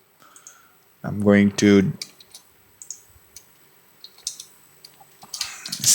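Computer keyboard keys clicked in short bursts and single taps while typing a cd command into a developer command prompt, near and crisp, with someone speaking briefly at the start.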